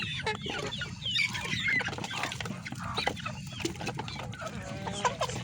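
Several chickens cluck and chatter continuously nearby, overlapping calls forming a busy flock sound with no talking.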